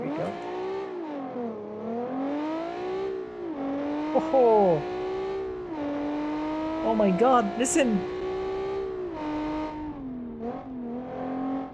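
A V6 rear-wheel-drive race car engine revs hard, its tone climbing and dipping through several shifts, with tyre chirps, while an excited voice talks over it.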